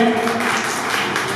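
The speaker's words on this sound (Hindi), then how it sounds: "तीसरा स्थान हीना को जोरदार तालियों से इनका स्वागत करें" An audience at a district youth festival in Jalore claps to welcome the third-place winner, a dense burst of applause that fills the moment.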